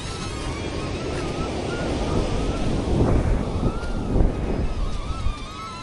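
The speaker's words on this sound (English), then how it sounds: "A lot of wind here." Strong outdoor wind buffeting a microphone during a DJI Neo drone test, a constant loud roaring rumble with gusts swelling and fading, a faint whine of the drone's rotors running underneath.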